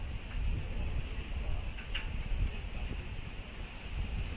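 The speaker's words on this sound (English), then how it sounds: "A lot of wind gusting now." Wind gusting across the microphone at an outdoor wiffle ball game, a steady low buffeting rumble with soft ticks and no clear talk.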